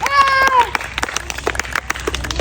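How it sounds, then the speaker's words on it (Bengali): A group of people clapping their hands indoors in quick, uneven bursts after a short tonal sound, with voices nearby. "হাততালি দাও সবাই"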